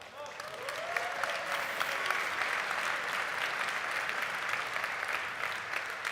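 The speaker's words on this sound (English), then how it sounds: "Give me a round of applause." An audience at the D2D Con conference gives a sustained round of applause for a speaker. Dense, even clapping fills the room for about six seconds with a few faint voices mixed in.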